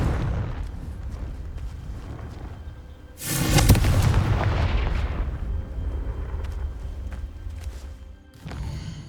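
A Confringo fire spell blast in the game Hogwarts Legacy, a sudden loud whooshing explosion that rolls and fades over several seconds, heard over ambient game sound.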